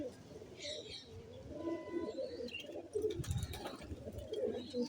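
Pigeons coo in soft, throaty murmurs while being fed grain, with a few higher chirps from other birds mixed in around them.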